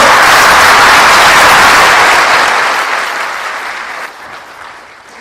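A large crowd claps loudly and continuously, the applause gradually thinning and fading out toward the end.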